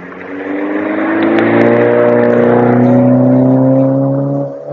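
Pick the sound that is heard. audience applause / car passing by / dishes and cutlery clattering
car passing by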